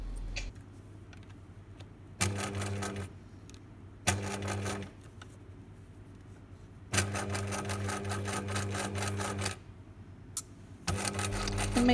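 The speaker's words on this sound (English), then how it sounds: "when you get to the very end of your sewing, it's flush with the end of the front edge of the skirt" A sewing machine stitches the hem of a wrap skirt in several bursts of rapid, even whirring, each lasting about one to three seconds, with short quiet pauses between runs.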